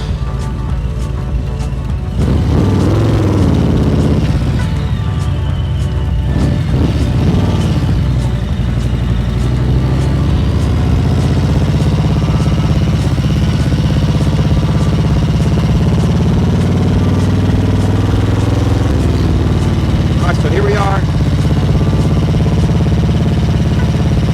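A 2020 Harley-Davidson CVO Street Glide rides along a road, its engine a loud, steady low rumble that swells as it accelerates, with wind noise and a few gear changes along the way.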